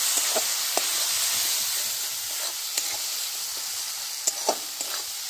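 Kashmiri red chili masala sizzles and scrapes as it is stir-fried in a pan, a steady broad hiss broken by irregular spoon clicks and stirring bursts, close and alone with no talk.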